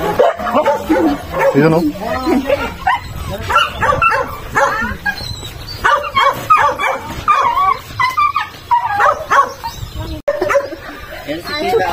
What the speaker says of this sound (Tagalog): Every corner lang may aso.